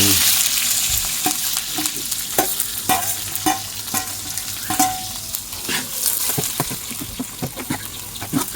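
Onions for mutton dum biryani sizzle in hot oil while a spoon scrapes and stirs the pan in repeated sharp strokes over a continuous close frying hiss.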